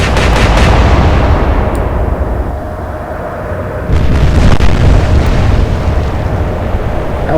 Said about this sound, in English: That was a good salvo.